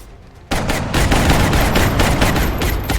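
Loud, dense overwatch reaction gunfire in the XCOM Long War strategy game, a rapid burst of overlapping shots starting abruptly after a brief quiet lead-in and continuing steadily to the end.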